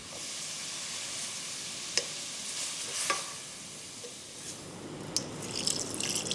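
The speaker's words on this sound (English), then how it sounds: "gradually pour in the red wine while stirring" Red wine poured into a sizzling pot of Japanese curry base with tomato paste while being stirred; a steady low sizzle runs throughout, with soft scraping stirs and a few sharp clinks, and no talk.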